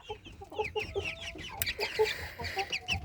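Several Chinese Silkie chickens cluck in short, repeated bursts, with higher chirps and calls overlapping close by in a busy flock.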